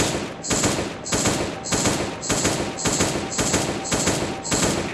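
Rapid automatic AK rifle fire in the Last Day on Earth game, aimed at turrets, comes in about eight even bursts separated by short gaps, loud and close with no talk.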